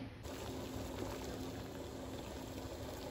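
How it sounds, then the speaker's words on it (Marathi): Sweet corn with its husk removed boils in a pot of hot water, giving a steady, even bubbling rumble that carries through the whole stretch with no talk. "ह्याला आपण गरम पाण्यामध्ये बॉईल करून घ्यायचं आहे"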